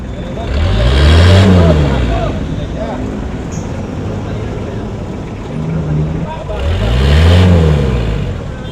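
A service van's engine starts and revs twice for an emissions opacity test, two loud rising-and-falling surges near the start and end with a steady idle between, under a noisy outdoor background.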